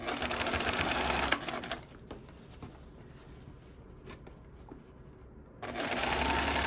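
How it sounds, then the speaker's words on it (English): A sewing machine stitches an eighth-inch understitching line around a pressed seam, a steady loud whir for about a second and a half, pausing into quiet handling noise, then starting up again near the end. "Just sewing 1/8 of an inch and go all the way around."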